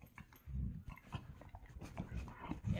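An 11-week-old German Shepherd puppy and an older Chocolate Lab wrestle roughly, giving faint scuffling, snuffling and low growly grunts in uneven bursts close by.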